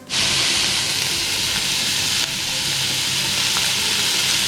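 Hot oil sizzles and crackles steadily and loudly while spices temper for a South Indian drumstick curry, a dense frying hiss close by with no voices.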